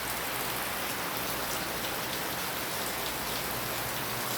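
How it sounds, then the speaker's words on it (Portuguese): Steady heavy rain falls in Acre, Brazil, a dense continuous hiss of drops on surfaces throughout, with no voices. "Chuva aqui no estado do Acre"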